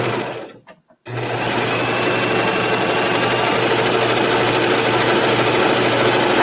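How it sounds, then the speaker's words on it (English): Serger overlocker stitching a rolled hem on a practice piece of fabric: after a brief start-stop stutter, the machine runs loud and close in a fast, steady mechanical whir with rapid needle clatter, continuous to the end. "I'm just going to serge off and just see what this looks like"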